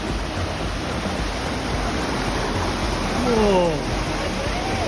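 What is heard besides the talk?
waterfall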